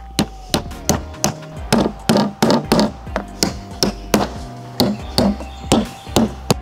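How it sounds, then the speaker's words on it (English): A hammer drives nails into a wooden drawer, giving a rapid run of sharp, close knocks in short bursts with brief pauses between them. "I am gonna use just a good old nail and hammer"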